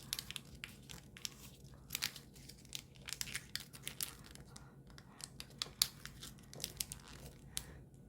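Paper being creased and folded by hand for an origami ninja spinning top, soft close crinkles and crisp rustling taps in an irregular rhythm, quiet and alone.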